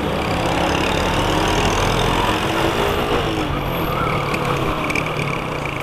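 Steady engine drone of a small Honda Biz motorcycle being ridden through traffic corridors, a loud continuous running note held throughout with no pauses.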